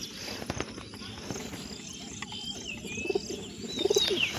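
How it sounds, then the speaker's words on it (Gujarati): Pigeons settled together in a loft coo softly a few times near the end, mixed with light chirps and faint rustling over a steady background hiss. "તો મિત્રો અહીંયા આપણા બધા કબૂતર સણી બેઠા છે"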